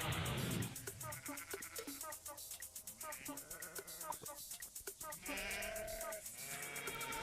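Sheep bleats played as part of an original Dungeons & Dragons commissioned music piece, repeated wavering calls layered over dense continuous music throughout, fairly loud and close.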